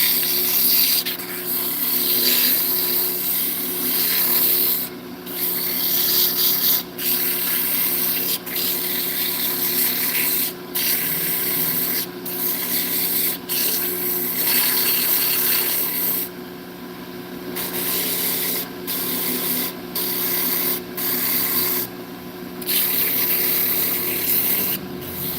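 Steady, close abrasive rubbing of sandpaper against spinning wood on a lathe, continuous for the whole stretch with brief breaks where the paper lifts off.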